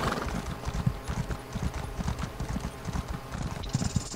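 Horse hooves clip-clopping in the Elder Scrolls Online video game, a quick, steady run of hoof strikes up close, with faint game sounds behind.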